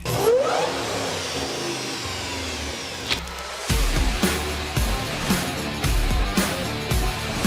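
A Ram TRX Lunar Edition pickup fitted with an AFE cold air intake revs nearby, a broad roar with a deep punchy blip midway followed by several short throttle bursts.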